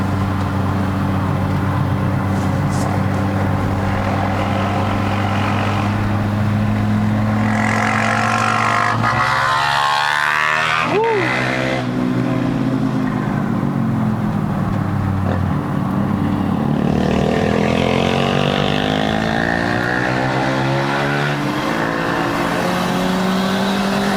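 Perodua Bezza 1.3L fitted with a bolt-on turbo, its engine droning and revving steadily under load while climbing a steep mountain road, with pitch rising and falling through gear changes and a continuous loud cabin hum.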